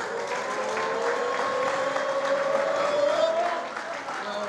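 Audience at a Martinje celebration of a wine academy cheering and applauding, a broad crowd wash of clapping with a voice or tone rising over it, steady then easing near the end.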